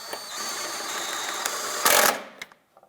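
A 10mm bolt on a 2001-2007 Ford Escape, near the transmission mount and air intake, is run down with a ratcheting power tool in a continuous buzzing whir, ending in a sharper burst as it snugs tight.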